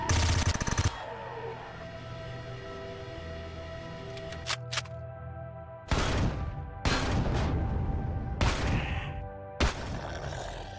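Gauss shotgun blasts in the sci-fi survival game Empyrion Galactic Survival, a loud opening burst followed by several heavy, evenly spaced shots over a constant mechanical hum.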